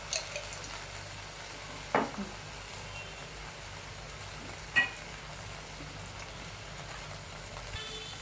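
Fried rice with soy sauce, red chilli sauce and ketchup being stir-fried in a pan: a faint, continuous low sizzle runs throughout, punctuated by two distinct scraping clatters of the utensil against the pan, no speech.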